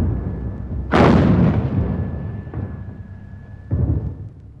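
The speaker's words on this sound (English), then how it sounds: "The opening barrage would pound the enemy trenches." An artillery barrage pounds enemy trenches on the Western Front: heavy booming blasts, one big rolling detonation followed by a fainter thud and another strong boom, each trailing off into rumble.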